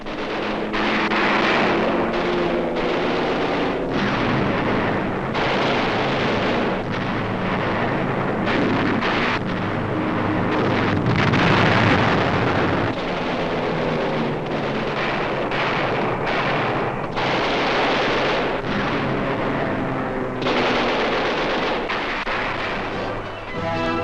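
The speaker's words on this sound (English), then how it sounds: "Japanese airfields on Mindanao and other land installations are plowed up by explosives" Bombardment explosions plow up Japanese airfields and land installations on Mindanao in wartime newsreel sound, dense and continuous rumbling blasts with repeated bursts and heavy low roar throughout.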